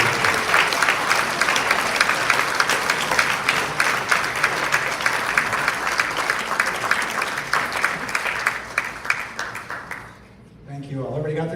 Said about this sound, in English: Round of applause for the judge and first lady.